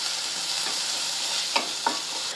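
Onions fry with turmeric in a pan while being stirred, a constant close sizzle broken by two quick scraping strokes of the spoon.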